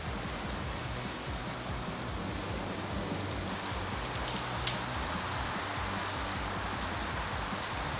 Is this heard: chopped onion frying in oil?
no